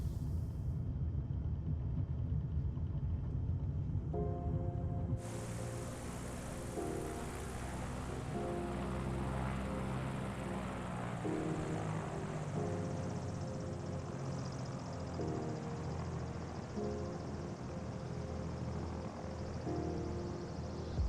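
The Velocity XL aircraft engine in Microsoft Flight Simulator 2020 drones steadily as a faint, low, continuous hum, with a brief tonal change a few seconds in and soft background music mixed underneath.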